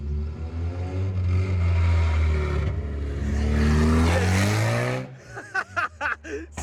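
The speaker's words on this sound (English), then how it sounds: "So Ed's is currently sounding like a tractor." A Honda Civic engine running rough like a tractor, a loud close rumbling drone with shifting pitch for about five seconds, then choppy uneven bursts as it falters.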